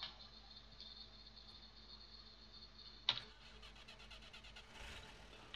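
A vehicle engine starts in the game ARMA 3, a sharp click followed by a soft, faint cranking and settling hum against a quiet background hiss.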